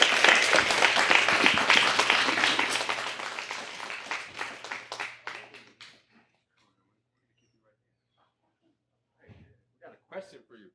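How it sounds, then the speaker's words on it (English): Audience applause after a poetry performance at a spoken-word event, loud dense clapping at first that thins out and fades to silence, followed by a few faint scattered sounds. "Give a nice round of applause for Anita, y'all."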